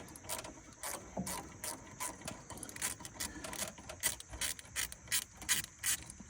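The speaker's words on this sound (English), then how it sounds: "The most annoying thing probably is removing this worm clamp every time." A worm clamp is worked loose from a cooling hose on a Jeep Wrangler YJ with a faint, close series of rapid ratcheting clicks and scraping rubs, repeating irregularly throughout.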